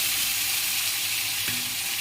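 Meat cooking with masala paste in a pan gives a steady, close sizzle and fry hiss throughout, with a brief scrape of stirring near the middle.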